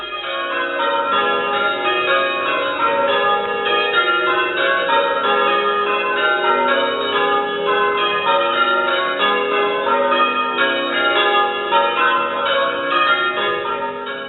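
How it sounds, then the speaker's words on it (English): The eight-bell ring of St Peter's Church tower in Goldhanger, a tower built in the 1500s, peals continuously and loudly with overlapping strokes and no pauses throughout. "There are 8 bells in the tower in good working order, with the ropes on the ground floor."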